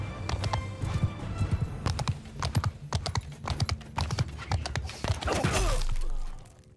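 Horse hooves clip-clop in a steady, rapid rhythm during mounted combat in the Mount & Blade II: Bannerlord video game, with a swelling roar near the end.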